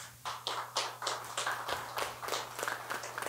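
Small audience at a local comedy show claps faintly in an irregular patter, individual claps audible over a low hum, quiet and somewhat distant.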